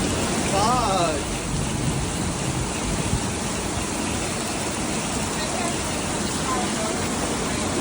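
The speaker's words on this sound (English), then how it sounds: "It rains in paradise. It pours." Heavy tropical rain pours down steadily on Koh Lipe island in Thailand, a dense, loud, unbroken hiss that fills the whole scene without letup.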